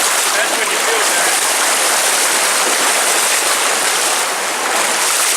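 Strong stream current at a hiking trail water crossing, a loud, continuous hiss of rushing water close by for the whole span, with no clear speech.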